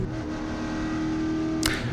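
Race car engine droning steadily on a wet track at a GLTC event at Pikes Peak International, with a brief burst of spray or wind noise near the end and no talk.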